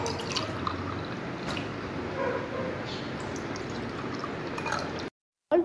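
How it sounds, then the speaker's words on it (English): Water poured from a glass into two drinking glasses on a tabletop, a soft continuous trickling splash with small clinks, heard close over background room noise before a brief cutout at the end. "We will pour some water in both the glasses."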